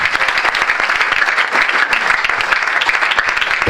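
Dense, steady applause from a church congregation clapping their hands for God, loud and continuous throughout, with a voice faintly audible underneath.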